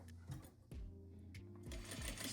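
Sewing machine stitching a zippered pouch, running in short bursts with brief stops for backstitching and pivoting, close and steady.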